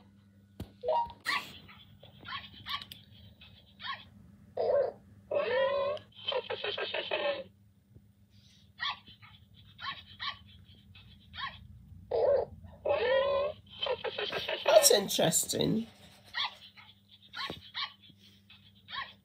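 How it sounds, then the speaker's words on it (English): Electronic puppy yips and whimpers play in short bursts from a KEYi Loona robot pet's small speaker, separated by pauses, with a person briefly speaking. "we've got Loona to play a puppy sound"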